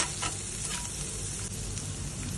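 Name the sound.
stirring onions frying in a pan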